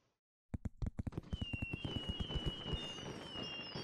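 Fireworks in the Super WorldBox sandbox game crack in a rapid string of sharp bursts that start abruptly after a short silence. They settle into a crackling rhythm with a faint whistling tone rising above it.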